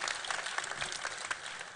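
Audience applause at a live event in Donegal, a steady wash of many hands clapping at moderate level with faint crowd murmur, continuous throughout without a break.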